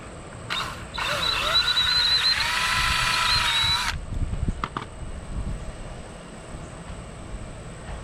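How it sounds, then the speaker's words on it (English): An electric drill bores holes to mount a storage shelf on wheels. There is one steady, whining run of about three seconds, followed by quieter clicks and handling noise. "Then I can drill the other 3 holes."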